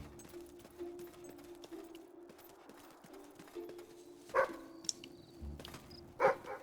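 A dog in the video game Fable 3 gives two short, fairly close barks a couple of seconds apart over a quiet low game hum and faint clatter.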